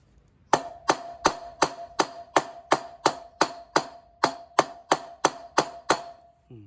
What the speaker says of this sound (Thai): พยายามตอกให้ให้โดนบ่าขอบนอกนะ อย่าไปตอกตรงกลางนะ